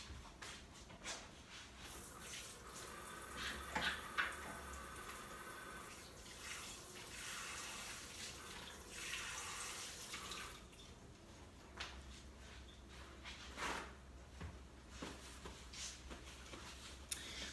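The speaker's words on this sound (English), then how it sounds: "I'm gonna wash my hands." A kitchen tap runs while hands are washed, a soft, steady rush of water with light splashing that continues throughout, fairly faint and without speech.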